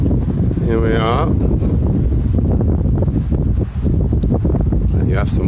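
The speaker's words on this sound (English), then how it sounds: "Let you have some wind for a while rather than me talking" Steady, loud wind buffets the microphone outdoors beside a horse in a community herd, a continuous rumbling roar with gusty rustle throughout and no talking.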